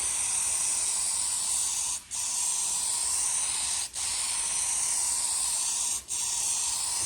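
A spray gun lays a light final clear coat onto a restored car bonnet in a workshop: a steady, loud hiss broken by three short pauses where the trigger releases, with no talk.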